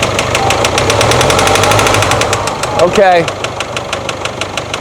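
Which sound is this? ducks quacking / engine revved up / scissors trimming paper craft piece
engine revved up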